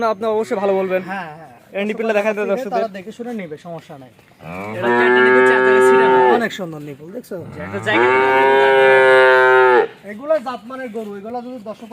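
Cattle at a farm, thin-necked and small-headed, moo in two long, loud, drawn-out calls close by, with people talking before, between and after them.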